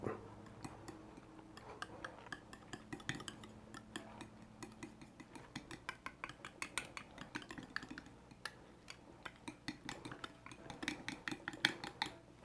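Russian dressing being stirred in a bowl, a rapid irregular clatter of utensil ticks and taps against the dish, close and steady throughout with no talking.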